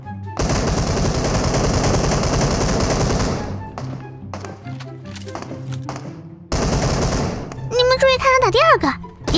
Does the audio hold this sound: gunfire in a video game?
yes